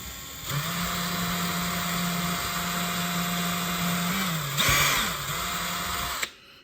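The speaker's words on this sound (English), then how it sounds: "First thing is drill one hole." A power drill whines steadily at close range for about six seconds while drilling a hole in a model railway, its pitch dipping briefly as it bites, then cuts off abruptly.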